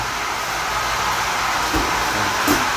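A water treatment machine runs with a loud, steady, broadband whirring roar that stays at a constant level throughout, close by and with no voices.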